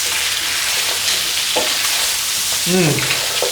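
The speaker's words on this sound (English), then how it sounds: "let's just give this a little mix with that curry spice" Beef and lamb with curry spice being stirred in a hot pan by a Chinese chef, a loud continuous frying sizzle with scraping stir strokes, and a brief voiced sound near the end.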